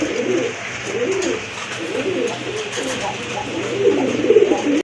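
A pair of large blackless satin pigeons cooing continuously up close, with repeated low rolling coos overlapping at a steady rhythm.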